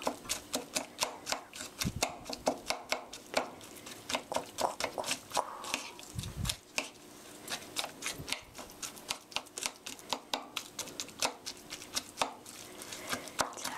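Ground meat for a stir-fried sweet bean paste sauce is broken up in a pan with rapid, repeated sharp taps of a spatula, a busy close rhythm of clicks over a faint sizzle, with brief soft thuds in between.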